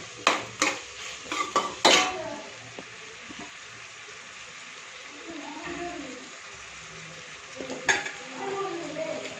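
Brinjal rice (vangi bath) is stirred in a pan: sharp metal scrapes and clinks at the start and again near the end, over a soft ongoing sizzle, with faint background voices.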